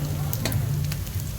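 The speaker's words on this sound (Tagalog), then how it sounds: "nag-start na tayo maggisa" Garlic and aromatics sautéing in hot oil for ginisang buto ng sitaw, a steady close sizzle with a few sharp crackles and spits.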